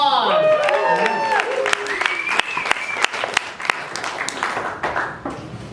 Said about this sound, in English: We get a round of applause.